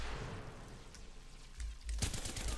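Light machine gun fire in a video game, a dense continuous burst of rapid shots that swells louder toward the end, heard alone without talk.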